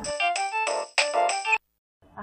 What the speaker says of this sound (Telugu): ఒక నిమిషం, ఫోన్.